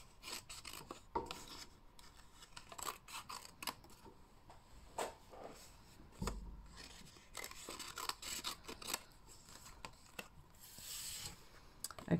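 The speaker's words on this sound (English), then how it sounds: "get in with my scissors and cut on that line" Scissors snipping along a line through papercard while making a swing fold fancy fold card, heard as irregular close crisp snips and rasping rubs, with quieter handling noises between cuts.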